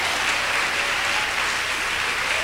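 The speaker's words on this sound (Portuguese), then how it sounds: "aplauda mais uma vez o nosso Deus" Portuguese-speaking church congregation applauding during a sermon, a continuous, even wash of many hands clapping together at steady volume for the whole stretch.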